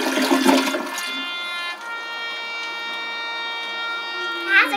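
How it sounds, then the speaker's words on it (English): A household toilet flushes, with a loud rushing surge of water at first that settles into a steady hissing refill with a faint whistling tone, close by and heard alone. "Time to flush."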